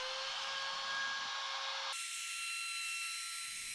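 A router with a 1 inch flattening bit cuts across an end grain cutting board, a loud steady high whine that shifts pitch partway through as the bit moves over tape and glue.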